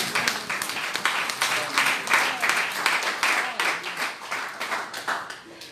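A church congregation at a special worship service breaks into sustained, lively applause, dense overlapping clapping with faint voices mixed in throughout.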